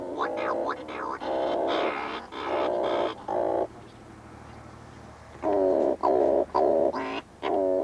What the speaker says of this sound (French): C'est le puffin cendré,